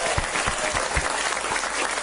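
Thunderous applause from a mosque audience at an evening religious forum, dense continuous clapping filling the hall at steady loudness with no speech over it.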